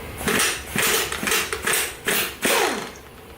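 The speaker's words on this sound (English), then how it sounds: "impact is better than cranking on it, because if it's stuck, you can impact it off and you can pull that bolt out" Air impact wrench breaking loose a stuck bolt on a Mazda Miata engine during teardown, firing in several short hammering bursts of clattering metal impacts, close and loud, with no talking.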